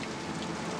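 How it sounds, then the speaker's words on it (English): Steady rain falls on surfaces in an outdoor scene, a brief even hiss of drops with no voices. "First rain this season!"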